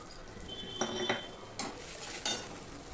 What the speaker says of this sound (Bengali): এবার সমস্তটাকে ভালো করে আমি মিশিয়ে নিলাম।